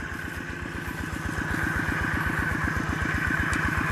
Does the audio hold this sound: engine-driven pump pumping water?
yes